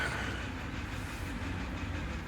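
A train moving in the Captain of Industry video game gives a continuous rumbling rattle with a hissy wash on top. It is steady and fairly loud throughout, and no one speaks.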